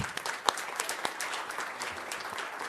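A room at a city council meeting bursts into brisk, continuous clapping for a school football team, with dense and fairly close applause throughout.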